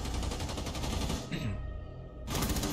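Rapid bursts of automatic gunfire in the video game Rainbow Six Siege, dense and loud, with a brief lull before another volley erupts near the end.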